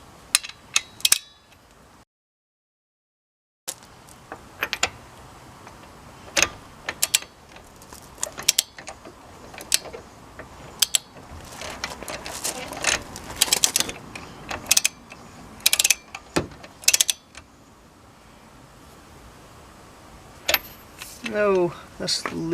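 A ratchet wrench works the wheel nuts on a Toyota Celica, giving scattered clicks and short metallic ratcheting bursts, with occasional talk and a brief silent gap.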